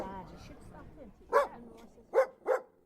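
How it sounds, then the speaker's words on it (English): A small overweight pet dog barks three times in short, loud bursts, with talk and faint background voices heard in the room before the barks. "She's my mum's dog."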